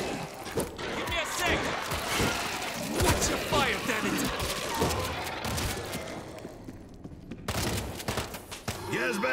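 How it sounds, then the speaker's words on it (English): Bursts of machine gun fire in the World War Z video game, rapid overlapping shots with crashes and impacts amid chaotic battle noise, with voices talking over the action. "Machine gun is ready."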